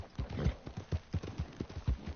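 Horse hooves clip-clopping in the Red Dead Online video game, a quick regular run of close, clear hoofbeats on the ground.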